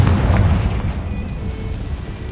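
A Confringo fire-blast spell explodes in Hogwarts Legacy, a loud, deep booming burst that rolls and fades over a couple of seconds, standing alone without talk.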